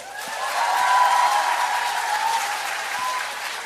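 A studio audience on a talk show claps as a vote for lawmaker Lee Jae-jung, a steady wash of many hands that swells and then holds, with a faint voice underneath.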